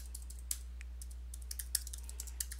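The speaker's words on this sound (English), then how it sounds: "So let's type in graphic" Computer keyboard clicking under light typing, a few soft scattered keystrokes over a steady low hum, quiet and near.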